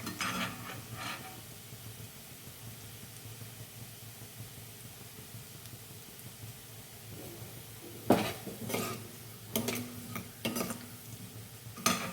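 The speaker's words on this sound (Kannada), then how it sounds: "ಸ್ವಲ್ಪ ಕೆಂಪಗಾದ ಮೇಲೆ ಬೆಳ್ಳುಳ್ಳಿ ಸ್ಮೆಲ್ ಹೋಗೋ ತನಕ ಸ್ವಲ್ಪ ಹುರ್ಕೊಳ್ಬೇಕು." Garlic frying in a pan for Kerala-style ginger curry, a steady low sizzle with faint crackling, broken near the end by a few sharp clinks and scrapes of a utensil against the pan.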